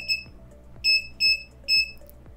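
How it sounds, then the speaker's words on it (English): A Vici VC8145 bench multimeter beeps four times on power-up in a steady series of short, high-pitched tones, each with a soft click beneath it, close and fairly loud. "Now it is going to beep, so headphone warning."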